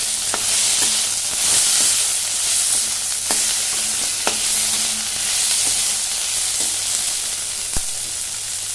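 Chopped tomato fries in a pan of oil for a fish head curry, a loud, steady sizzle broken by several sharp clinks of a spoon stirring against the pan.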